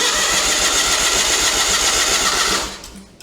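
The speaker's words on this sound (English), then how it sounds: "I had to put my jump pack on, so let's keep cranking here" An Onan engine with a broken rod cranks over steadily on a jump pack, a loud, continuous rapid churning that runs without pause before cutting off and fading near the end.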